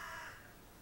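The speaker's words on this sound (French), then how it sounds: "Oula, désolée pour les oiseaux." A crow caws outside an open window on a hot day, a fairly loud harsh call at the start that fades into quieter background noise within a second.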